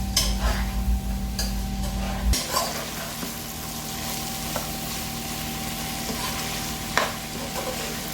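Dried anchovies fry in a pan with garlic and onion, sizzling steadily while a spatula stirs and scrapes, with a few clinks against the pan and a low hum at the start.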